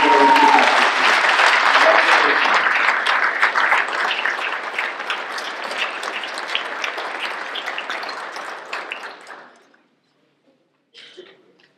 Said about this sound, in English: Let's have another round of applause for all the people.